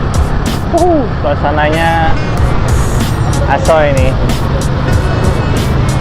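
Street traffic on Jalan Malioboro in Yogyakarta rumbles steadily close by, with passing vehicles and brief horn-like tones, while a voice talks over it.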